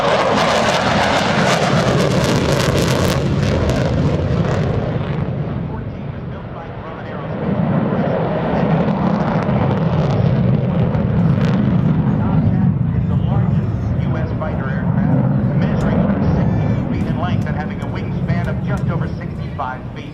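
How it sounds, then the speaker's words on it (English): A US Navy F-14D Tomcat makes a carrier-configuration pass at an airshow demonstration, its jet engines producing a loud, continuous roar that surges and fades and rises again, with a commentator's voice over the public address throughout. "From the right, the carrier configuration pass of your United States Navy's F-14 Tomcat with Rocco and Smokin'"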